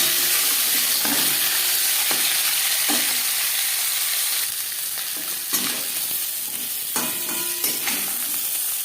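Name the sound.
marinated katla fish head frying in oil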